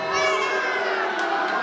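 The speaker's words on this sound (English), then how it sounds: "The crowd says fuera." A comedy club crowd during a crowd-work set loudly shouting and jeering together in a dense, boisterous burst of many voices.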